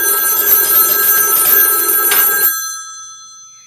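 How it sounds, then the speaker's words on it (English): An old landline telephone bell rings loudly in a continuous metallic trill during a central office test ring cycle, then cuts off abruptly and leaves a fading resonance. "I'm going to send this telephone to a ring cycle as though we're getting a call."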